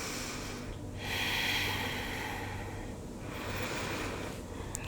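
Slow, audible breathing during a yoga pose, with two long airy inhale and exhale cycles close to the microphone, soft and unhurried with no talk.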